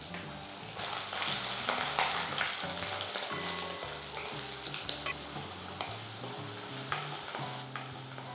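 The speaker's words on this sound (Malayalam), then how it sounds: "എണ്ണ ചൂടാകുമ്പോൾ നമുക്ക് ആദ്യം ഇതിനകത്തേക്ക് കുറച്ച് തേങ്ങാക്കൊത്ത് വറുത്തെടുക്കാം." Coconut pieces fry in hot oil with a loud, continuous close sizzle and crackle, and scattered utensil scrapes and stirring clicks throughout, with no voices.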